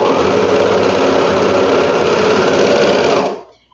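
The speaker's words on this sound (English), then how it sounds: "Okay, so I'm sewing the waistband." A sewing machine stitches the waistband of children's swim shorts, running steadily at high speed, a loud continuous mechanical whir with rapid stitching rhythm, then stops abruptly near the end.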